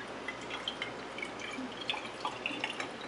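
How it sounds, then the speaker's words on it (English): Filtered water pours into a coffee machine reservoir, a light trickle with small splashy drips and gurgles running steadily for a few seconds, close and fairly quiet. "you're going to pour your filtered water into the machine"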